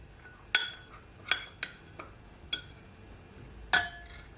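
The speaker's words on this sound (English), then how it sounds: "Then I'm gonna mix it all in." Utensil clinking against a pot as noodles are mixed with sauce for garlic shrimp noodles, about six sharp metallic taps at an irregular pace over a quiet background.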